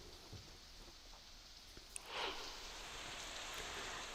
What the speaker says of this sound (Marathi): तर बदलापुरामध्ये मुसळधार पाऊस पडतोय